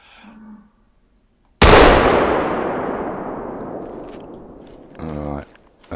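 A single loud rifle shot rings out at an animal while hunting in theHunter: Call of the Wild, a sharp crack with a long decaying echo, followed by a brief rattle of the bolt action.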